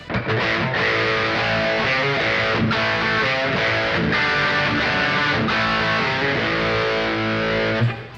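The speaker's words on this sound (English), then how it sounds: "it does sort of get you that sort of Fender-ish chime, I suppose. So let's take a quick listen." Epiphone Les Paul Modern Figured electric guitar played on its coil-split bridge pickup through a distorted, effects-laden tone, strummed chords and riffs ringing steadily and loud throughout.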